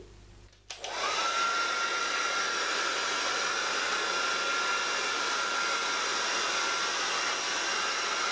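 A hair dryer switches on after a brief quiet moment and then blows steadily and loudly, a constant close whoosh with a faint whine, while hair is dried and straightened with a brush.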